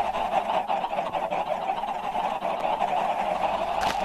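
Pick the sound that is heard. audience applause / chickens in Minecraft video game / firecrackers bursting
chickens in Minecraft video game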